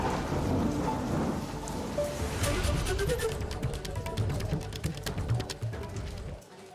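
Heavy monsoon rain pours down in Nashik as a loud, continuous roar of drops on surfaces, broken by sharp crackling thunder strikes, close and unbroken until it cuts off abruptly at the end.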